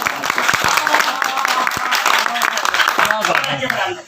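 Applause from an audience at a poetry gathering, a steady wash of clapping hands with voices mixed in, fairly loud and close throughout.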